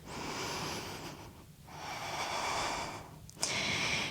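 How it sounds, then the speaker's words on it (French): Close, breathy exhalations and inhalations from a person doing a Pilates hip lift, in two long airy rushes separated by short pauses, with no talk. "À l'expire, on soulève les hanches et on redépose le sacrum."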